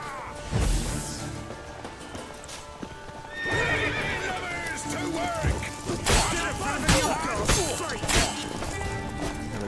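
Horses galloping with hoof clops and loud neighs during mounted combat in The Witcher 3, with impact thuds and a voice speaking over the fight.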